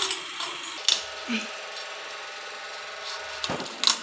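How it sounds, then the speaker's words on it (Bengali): A large fish being cut with a knife at home, giving steady scraping and rubbing strokes with a few sharper knocks, close and fairly quiet with no talking. "এখন মাছটা তো কাটতেছি"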